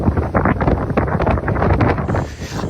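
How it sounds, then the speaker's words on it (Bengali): Strong sea wind buffets the microphone beside a road bridge next to the Pamban rail bridge at Rameswaram, where the Gulf of Mannar and the Bay of Bengal meet; loud, continuous rumbling gusts with no talk. "সাগরের মাতাল হাওয়া আপনাকে পাগল করে দিবে"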